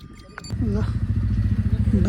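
A TVS Ronin motorcycle on a mountain road between Dhorpatan and Pokhara starts and settles into a close, throbbing idle after a few clicks, with a voice talking over it.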